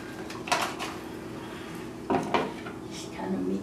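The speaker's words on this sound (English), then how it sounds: "what we're gonna do now, we're going to mix that up" A spoon scrapes and clinks against a bowl while ingredients are mixed for poppyseed chicken. A few louder clatters stand out over a low kitchen hum, and there are faint traces of talk.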